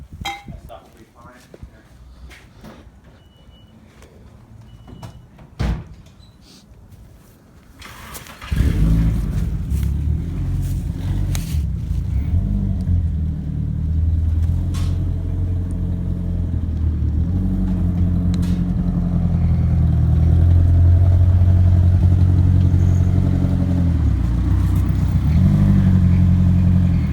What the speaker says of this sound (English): Now, let me back the car out real quick.